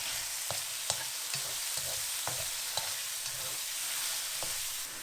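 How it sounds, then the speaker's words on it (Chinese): Crushed eggplant and seafood mushrooms stir-fry over low heat in a wok. A soft, even sizzle runs throughout, broken by regular light scraping taps from a spatula, close by and with no voices. "我们再把海鲜菇放进来，用小火给它翻炒30秒左右"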